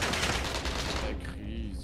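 Gunfire in the Warzone video game crackles in a dense burst of rapid shots that cuts off partway through, leaving quieter game sounds.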